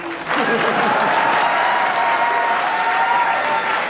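An audience at a kavi sammelan poetry gathering claps after a sung performance, a dense, steady round of applause filling the room at close range.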